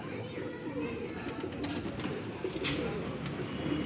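Pigeons cooing close by amid a steady wash of outdoor noise at a summer pigeon flying tournament, the soft coos blending into the constant background hum.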